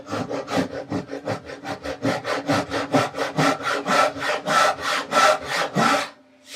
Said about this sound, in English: it's just like any other sawing operation